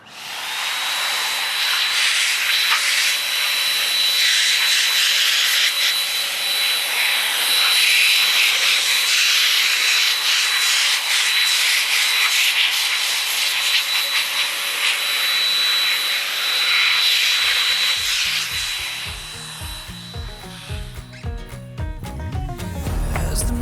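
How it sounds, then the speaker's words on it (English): A high-speed blower roars loud and steady for about twenty seconds while drying rubber car floor mats, a whining jet-like rush with a high tone, then cutting off at the end. "To dry them, we're gonna be using a combination of microfiber towels and our Pro Low high-speed blower"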